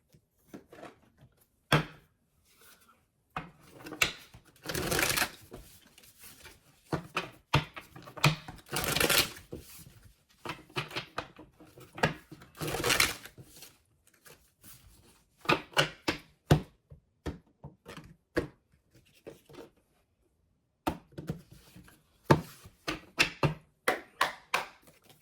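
Tarot cards shuffled in quick bursts of riffling and flicking, close and crisp, with short pauses between rounds and no talking.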